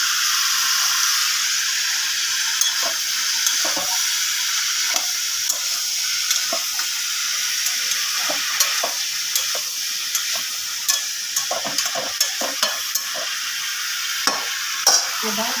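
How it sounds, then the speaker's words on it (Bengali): Ash gourd sautéed in hot oil, a loud, steady hiss of frying with scattered clicks and scrapes of a spatula stirring in the pan, close and continuous, no talk. "কিন্তু আমি চাল কুমড়োর মধ্যেই দিলাম, ভালো করে কষিয়ে নেবো।"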